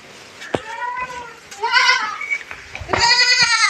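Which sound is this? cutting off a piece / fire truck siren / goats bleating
goats bleating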